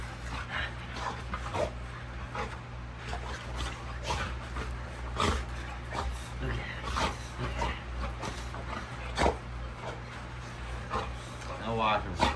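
A small puppy whimpers and gives short yips, repeated high cries scattered through the stretch over a steady low hum, with people talking alongside.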